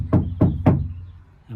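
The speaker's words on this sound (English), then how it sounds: "obligatory knocking." Knuckles rap three times on a Ford Transit Custom side panel that has been lined with sound-deadening material, giving dull, damped thuds at a steady, even spacing. The knocks are close and clear, with nothing else heard.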